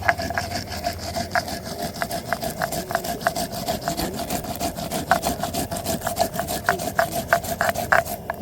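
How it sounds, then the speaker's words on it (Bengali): Cabbage is ground by hand on a flat grinding stone in a home kitchen, a steady run of rhythmic rasping strokes scraping back and forth up close. "বাঁধাকপিটা বেটে নিচ্ছি আমরা এখন"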